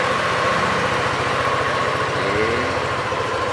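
A 2018 Yamaha Aerox 155 scooter engine idles steadily up close, a smooth, even low rumble that runs the whole time, with one brief word spoken over it.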